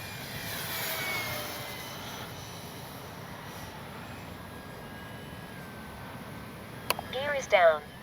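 An X-Fly Spitfire RC model plane drones past in the distance during a speed and performance trial, a faint steady engine hum over outdoor wind noise, ending with a couple of close clicks and a short voice.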